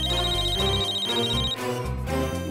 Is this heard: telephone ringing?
yes